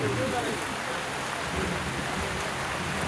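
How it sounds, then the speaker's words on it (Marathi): Rain falls during an outdoor evening-style public program marking Dr. Shankarrao Chavan's birth anniversary in Waghalwada, a dense steady hiss of drops on surfaces throughout, fairly quiet and with no clear voices over it. "निसर्गाला हे कार्यक्रम पसंत पडला म्हणून पाऊस येतो."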